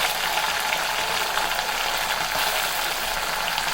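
Tomatoes dropped into hot oil with frying ginger-garlic paste set off a loud, steady sizzle that holds evenly for several seconds, with no one speaking over it.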